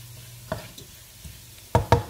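Ingredients for ginataang bayabas being sautéed in a pan, heard as a low background sizzle broken by a few sharp knocks and scrapes of a utensil against the pan, with two loud clacks near the end.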